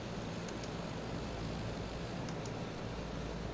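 A C-130 aircraft in Microsoft Flight Simulator gives a steady, broadband propeller-engine drone on the runway, unchanging and fairly loud, with two faint pairs of high clicks.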